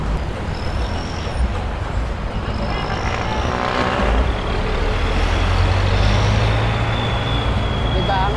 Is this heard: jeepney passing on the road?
yes